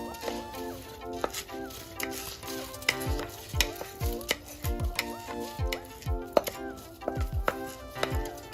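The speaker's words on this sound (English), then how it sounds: "Now I'm going to go in with the rice." Rice poured into a pot of peas, meat and butter for Jamaican rice and peas, then stirred, gives repeated scraping and clacking knocks against the pot over a low sizzle, close and fairly loud, with no talking.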